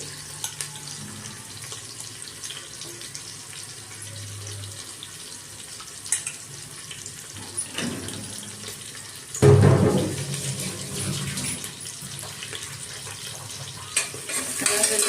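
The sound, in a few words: frying onions with ginger and garlic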